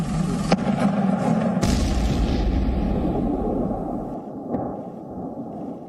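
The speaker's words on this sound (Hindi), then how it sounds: "तो कहीं मिसाइल हमले से मची तबाही की गूंज।" Deep booming explosions from a missile attack on Ukraine, a loud rumbling blast with sharp impacts near the start and a long echoing roar that slowly fades, heard alone.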